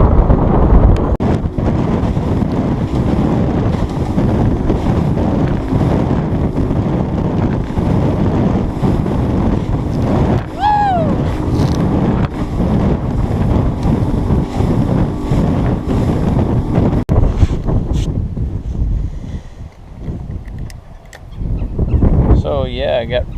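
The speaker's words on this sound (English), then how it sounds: "the wind was blowing me hard" Strong wind on a lake, loud and constant, roaring across the microphone with waves slapping against a fishing boat, dropping slightly near the end.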